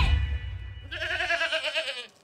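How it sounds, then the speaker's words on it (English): A goat gives one loud, wavering bleat up close after a brief low rumble, standing alone with no talk over it. "A little softer, please. You are scaring the goats."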